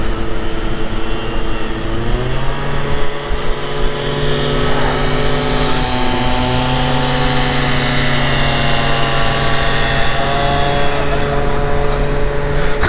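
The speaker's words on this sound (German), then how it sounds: "heute fahren wir halt ein bisschen mit der Aprilia" An Aprilia SR 50 Motard scooter's small engine drones loudly and steadily while riding, its pitch rising through gear changes early on and then holding a constant buzz, with a voice talking over it.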